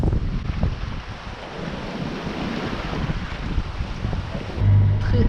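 Steady wind buffets the microphone with a continuous roar, mixed with the wash of waves rushing around a moving sailboat on the open ocean in 15 to 16 knots of wind.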